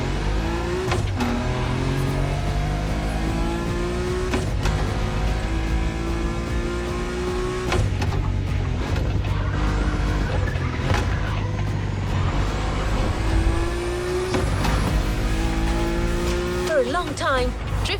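Revving car engines and squealing tires from drifting in the racing game The Crew Motorfest, loud and continuous with shifting engine pitch, under a voice talking throughout.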